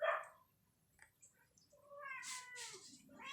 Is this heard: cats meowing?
yes